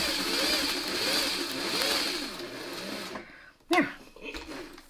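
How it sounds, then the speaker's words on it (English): A sewing machine stitches a log cabin quilt block with a steady, close mechanical whir that runs in bursts, stops, and gives way to brief handling noises and a sharp scrape. "I'm just going to sew in between."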